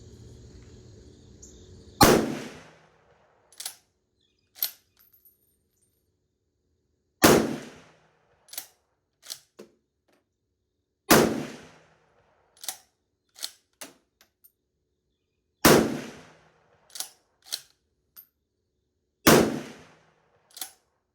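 Rifle shots from a K98 and a K11 firing 174 grain PPU full metal jacket rounds at a 100 yard range: loud, sharp reports spaced several seconds apart, each followed by quieter metallic clicks and clacks of bolt cycling, with no talk.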